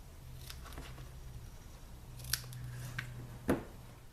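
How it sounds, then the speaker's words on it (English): Scissors trimming the ends of craft ribbon for a bow, a few quiet close snips and a sharp final cut over a faint low hum, no talk. "And we'll trim the ends."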